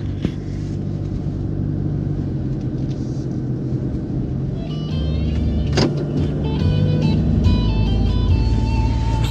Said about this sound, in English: Cam is driving to Ban Nam Tsi, a village near the border of Laos and China.